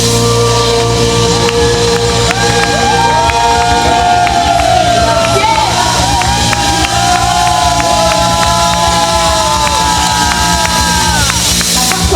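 A concert crowd at an open-air lakeside dance evening with an orchestra cheers and shouts continuously, loud and dense throughout, with whistles and whoops over a steady roar.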